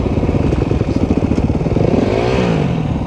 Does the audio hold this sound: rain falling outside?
no